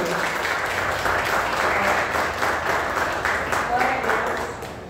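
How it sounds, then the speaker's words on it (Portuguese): Congregation applauding in a church, steady clapping that swells and eases, with voices mixed in beneath the clapping. "Pode aplaudir o Senhor."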